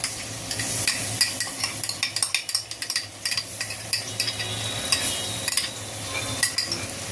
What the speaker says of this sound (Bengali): এবার এটা দিয়ে 2-3 মিনিট নাড়াচাড়া করে নেব।